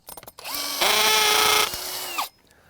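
A power drill boring into wood whirs up, runs steadily for under two seconds at a higher pitch, then winds down, close and loud with short clattering before it starts.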